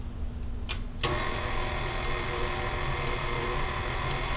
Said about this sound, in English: get it into my standing mixer. Okay, and you just want to mix that